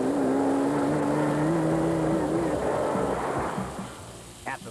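A Porsche-engined space frame race car in the 1992 Mmabatho Sun 500 endurance race holds a loud, steady engine drone with a rising and falling pitch as it passes, then fades slightly toward the end.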